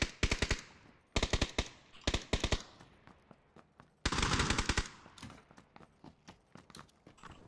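Bursts of automatic gunfire from a shooting video game, several rapid rattling volleys starting and stopping, with one longer sustained burst, loud and close, no talking.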